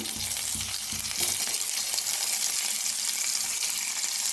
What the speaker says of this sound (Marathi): आता तेल चांगलं गरम झालं आहे त्याच्यात अशी या प्रकारे असे तंबाटू ठेवायचे बघा